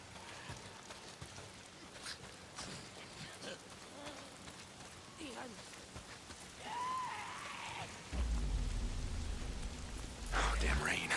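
Steady rainfall patters throughout a scene in the video game Days Gone, with scattered game effects and tonal cues layered on top and the rain growing heavier and louder toward the end.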